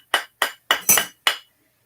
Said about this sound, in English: hammer it a bit, and that will stretch it out just a little bit